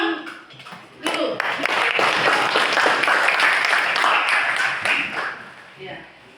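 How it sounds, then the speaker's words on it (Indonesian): Schoolchildren clapping their hands together in a classroom, a dense burst of clapping that starts abruptly, holds steady for several seconds, then dies away, with a voice briefly audible before it. "kita tepuk tangan dulu"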